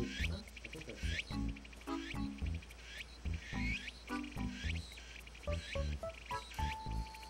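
Buzzing insect-like chirps from cicadas in the Animal Crossing: City Folk video game, repeating in rapid pulses alongside game music notes and soft effects, fairly quiet and steady.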